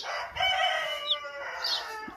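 Young male chickens crow nearby on a farm, a short strained cock-a-doodle call with clucking around it.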